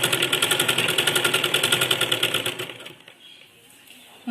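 Sewing machine stitching a keyhole neckline on fabric, a fast steady mechanical rattle running close and loud for nearly three seconds before stopping and leaving a quiet pause.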